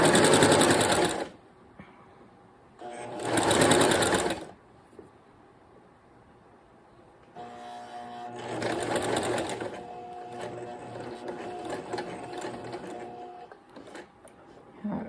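A sewing machine stitches fabric a quarter inch in from the edge up to a pin at a corner, running in two short close bursts and then one longer steady run.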